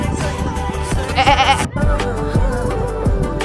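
A goat bleats in wavering cries over a steady bed of music, loud and close, fading into continued background music.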